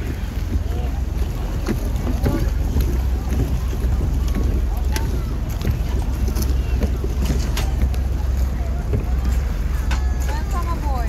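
A passenger boat moves across open water with a steady loud engine rumble, rushing water and heavy wind buffeting the microphone throughout.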